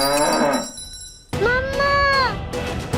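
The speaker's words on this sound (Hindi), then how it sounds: "तुम इतना क्यों रंभा रही हो?" After a short burst of other sound and a moment of quiet, a cow moos once, close and loud, in a long, drawn-out bellow lasting over a second.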